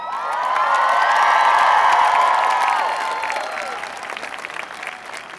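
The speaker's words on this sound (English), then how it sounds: "raise a grateful cheer for those who have helped to make this day happen" A large crowd at a university commencement ceremony bursts into loud, sustained applause with cheering and whoops, slowly fading toward the end.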